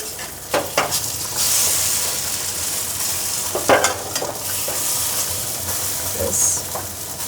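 Vegetable roti sizzling steadily in a hot pan while being turned over, with bright frying hiss throughout and a few scraping, clattering knocks of a spatula against the pan.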